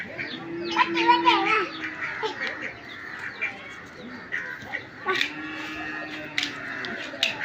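Several ducks quack repeatedly nearby in rough bursts, mixed with other bird calls, while people talk over them.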